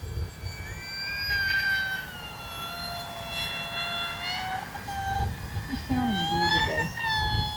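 An Arrows RC P-51 Mustang model plane's electric motor at full throttle on a 4S 2200 battery, with a loud, continuous whine that wavers and shifts in pitch as it flies by.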